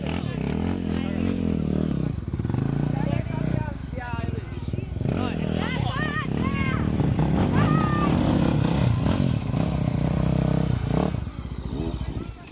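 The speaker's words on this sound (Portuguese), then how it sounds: "Dando uma esquentada no motor." Honda CRF 450X dirt bike engine warming up, a continuous idling and revving drone with loud talk from people nearby over it.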